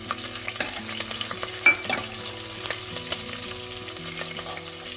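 Cumin seeds sizzle and crackle in hot oil over a low flame, a close, steady fry with scattered pops and light stirring scrapes, no talking.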